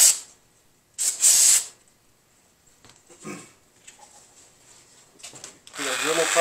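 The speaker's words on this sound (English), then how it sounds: "give it a good spray for the carb cleaner." Short bursts of hissing carb cleaner spray on a Honda F23 cylinder head, one near the start and another around a second in, with faint clatter and quiet handling noises between, ending in a louder whoosh.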